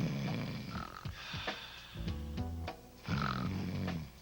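A person snores loudly and close by, with several rough, rumbling breaths in an uneven rhythm, heard alone in a stop-snoring product advert.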